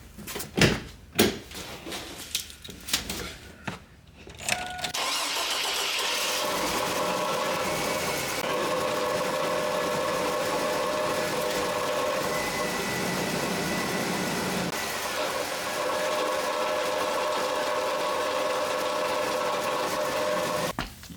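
A 2002 Chevy Blazer makes an odd steady whirring, droning noise as it is put in gear, following a few knocks and clunks at the start, then continuing evenly with brief shifts in tone.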